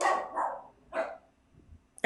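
A pet dog barks three times indoors, sharp and fairly close, with short pauses between barks and a brief knock at the end.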